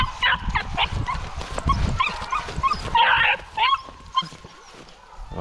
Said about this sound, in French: on commence à avoir l'instinct d'aboyer quand ça court